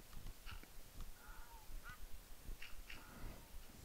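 Ducks quacking in the Minecraft video game, a few short, faint nasal calls scattered over a soft noisy background.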